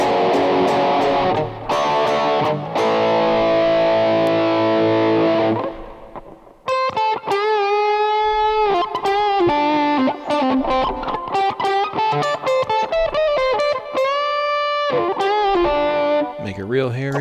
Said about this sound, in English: Then go to the bridge, same thing, distortion without the overdrive attached.